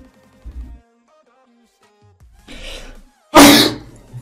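A sharp, loud sneeze after sniffing pepper bursts out near the end, preceded by a few quieter sniffs and throat noises.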